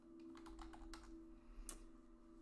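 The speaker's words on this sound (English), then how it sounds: "I'm actually typing it in right now" Typing on a computer keyboard: a quick run of light, clicky keystrokes at an uneven pace over a steady low hum, with one sharper key press near the end.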